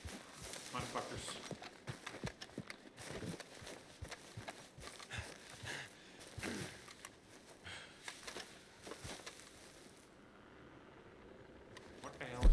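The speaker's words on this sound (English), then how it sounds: "those horses, those riders, they just scare away the wildlife" Horses with riders gallop in Red Dead Redemption 2: a steady clip-clop of hooves runs throughout at middling distance, with someone talking over it at times.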